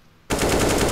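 A sudden loud burst of automatic weapon fire in CS:GO, starting abruptly after a quiet moment and continuing as a dense, sustained rattle.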